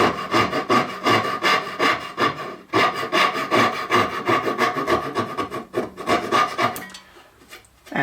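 Hand saw strokes cut an inlaid dovetail in wood, making a rapid rhythmic rasp of back-and-forth pulls, close and loud, with a brief pause partway and the sawing fading out near the end.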